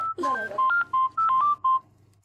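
A quick series of electronic keypad beeps, about seven short dial tones of varying pitch in an irregular rhythm, with a brief murmur of voices near the start.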